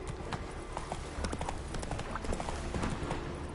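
Roach, Geralt's horse in The Witcher 3, trots steadily with a quick, even clip-clop of hooves close up, continuing throughout over a busy backdrop of game ambience.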